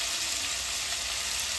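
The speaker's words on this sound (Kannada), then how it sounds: "ಈಗ ನೀಟಾಗಿ ಚೆನ್ನಾಗಿ ಎಣ್ಣೆ ಫ್ರೈ ಆಗಲಿ" Green chillies fry in oil for upma with a bright, steady, close sizzle that stays even and unbroken throughout, with no talking.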